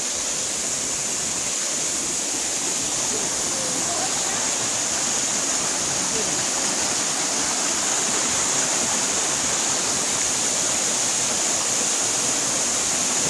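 Water rushing out from below at Gaumukh in the Rock Garden, Darjeeling, a dense, constant roar of flowing water close by, unbroken from start to finish.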